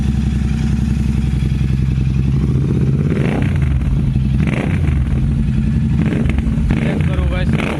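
A Royal Enfield GT 650 fitted with an AEW 103 exhaust idles with a deep, loud rumble, then gets several quick throttle blips that rise and fall close by.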